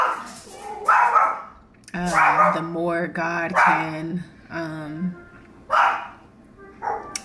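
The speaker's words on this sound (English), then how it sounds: "sorry, my dog" A pet dog barks and yips indoors in a home vlog, several loud close barks in a quick burst while someone talks around them.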